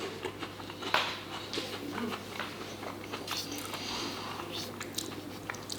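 Close crunchy bites and chewing of a Milka hazelnut wafer chocolate bar, a series of crisp cracks followed by softer mastication, with a brief voice.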